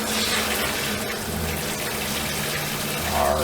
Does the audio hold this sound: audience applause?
no